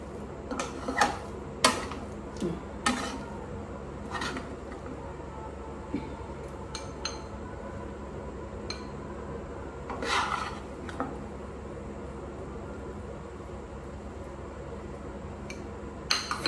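Fried Maggi noodles scooped from a pan into a bowl, heard as intermittent scraping, rubbing and clinking of a utensil against cookware, with quiet pauses between the strokes.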